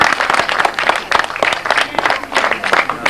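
Audience applause at an amateur pub drama performance held in a yard, a dense steady clapping that swells and dips in waves for about three seconds with no talk.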